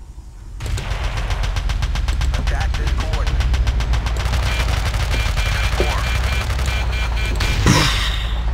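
Rapid automatic gunfire in the video game Battlefield 2, a long sustained burst of loud, closely spaced shots with a heavier crack near the end, rattling over a constant low rumble.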